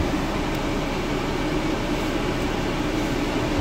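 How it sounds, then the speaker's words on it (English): Air conditioning in a 2016 VW Crafter 2.0 TDI high-roof van blows as a steady, broadband rush of air, constant and fairly loud throughout, with no talking. "It's also got air conditioning. Not tried it, so let's give that a whirl. Aircon, put that right down."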